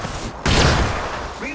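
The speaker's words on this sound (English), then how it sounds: "These are shooting at me." Enemy gunfire in a science-fiction shooter video game, a sudden loud burst of firing that erupts after a brief hush and rumbles on, with a short synthetic whine near the end.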